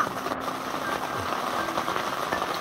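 Rain falls steadily at a wet mountain campsite on a multi-day high-peak trek, a soft even hiss with no talk.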